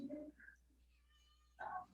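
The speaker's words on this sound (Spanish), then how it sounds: "Si escuchan por ahí mi gata" A pet cat meows faintly indoors, two short calls separated by a quiet pause, heard against low room hum.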